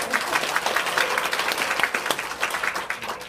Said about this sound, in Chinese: 让我们以热烈的掌声欢迎